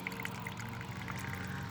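Water trickles and dribbles steadily from a bolt hole on a 2006 Toyota Prius engine bay, a continuous soft splashing close by with no pauses.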